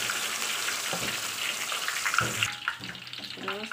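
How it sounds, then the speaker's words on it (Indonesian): Blended spice paste sizzles quietly in hot oil, a soft steady hiss with faint crackles and a few light clinks, for a chicken kecap dish. "Ini panaskan minyak, kita masukkan bumbu yang di blend tadi ini"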